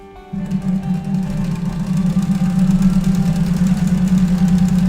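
A sewing machine stitches the hem of a boho dress, starting abruptly and running as a steady, close, loud mechanical hum and rapid chatter for several seconds with no talk.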